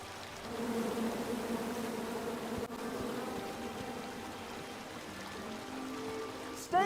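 A swarm of bees buzzes steadily and densely in the King's Quest video game, a continuous droning hum at moderate loudness with no talking over it.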